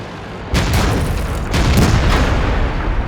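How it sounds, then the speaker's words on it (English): An artillery shell slams onto a tank in a tank battle video game, a loud booming impact with a long roaring rumble and a second swell of blast noise, no voices over it. "The Centurion gets a shot at me, and then the artillery lands on me."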